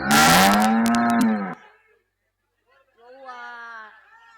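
A cow moos loudly and long up close, a drawn-out harmonic low, then after a short silence a second, fainter and higher bawl follows; the setting is a village comedy stage play.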